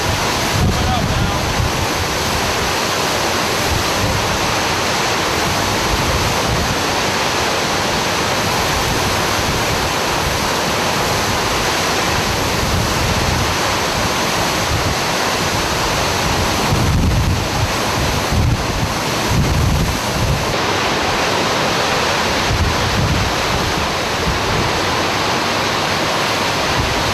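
Hurricane Katrina batters Gulfport with ferocious wind and surf, a roaring wall of broadband noise with wind buffeting the microphone, loud and unbroken for nearly half a minute.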